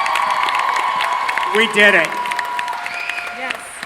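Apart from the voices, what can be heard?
audience applause and cheering at Comic Con panel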